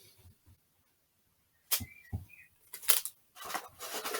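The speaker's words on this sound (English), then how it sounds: "So I'm going to get my sellotape, cut a decent amount of length off" Tape is pulled off a roll in a few short, sharp bursts, then ripped and cut, close by, amid quiet pauses.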